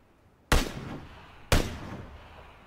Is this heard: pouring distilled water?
no